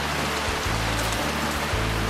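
Heavy rain falls on a steel pipe shed under construction, a dense continuous hiss of drops on the surfaces, loud and steady with a low rumble underneath.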